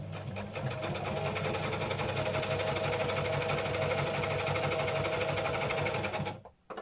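A sewing machine runs steadily, stitching through paper journal pages in a continuous close whir, then stops abruptly near the end.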